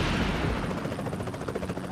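Gunfire in the PUBG Mobile battle royale game during a bridge ambush, a dense, continuous stretch of rapid shots with a low rumble beneath, loud and close with no talk over it.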